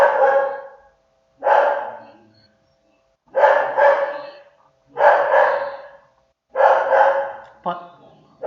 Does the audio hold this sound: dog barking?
yes